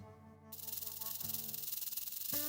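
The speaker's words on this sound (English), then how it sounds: "The warning of a rattlesnake." A rattlesnake's tail rattle buzzes as a steady, fast, dry hiss that starts abruptly and keeps going unbroken, faint and alone against a low tonal background.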